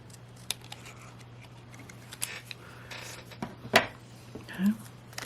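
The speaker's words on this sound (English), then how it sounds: "So we're just going to trim that off like that." Scissors trim the top off a paper manger craft, leaving a few sparse, crisp snips and small paper clicks against a quiet background hum.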